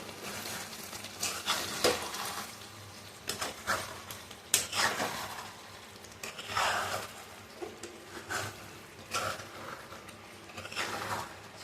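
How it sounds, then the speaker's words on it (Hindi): Chicken biryani being mixed with a spoonful of garam masala in a pan, with repeated scraping stirs and soft sizzling in irregular bursts, close and moderately loud, no voices. "इसमें भर के हम डाल दिए 1 चम्मच गरम मसाला और इसको अच्छे से मिक्स कर देते हैं"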